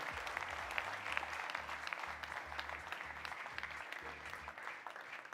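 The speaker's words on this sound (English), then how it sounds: "I didn't even have to tell you guys a round of applause for Mr. Bakhit." Steady applause from a crowd at a product launch event, moderately distant, continuing throughout with no voices over it.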